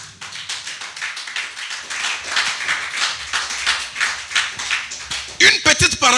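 A church congregation at an evangelical sermon claps together in steady rhythmic time under voices, building to a few louder, sharper claps right at the end.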